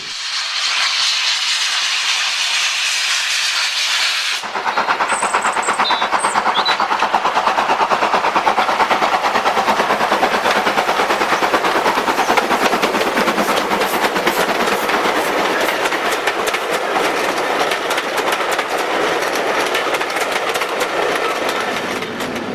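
Stanier 8F steam locomotive 8624 runs at Loughborough on the Great Central, first a loud steady hiss of steam, then a continuous roar of rapid exhaust beats with rail clatter and wheel noise close by, with no talk.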